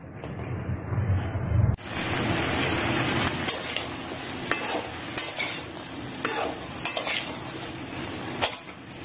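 Potatoes and cauliflower fry in a pan for aloo gobi, a steady sizzle broken by repeated scraping stirs and sharp clinks of a utensil against the pan, close up.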